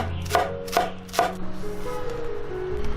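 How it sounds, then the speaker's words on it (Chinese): A knife chops green onions on a cutting board in a few sharp, evenly spaced strokes up close, followed by softer scraping and handling sounds. "再来切点香葱"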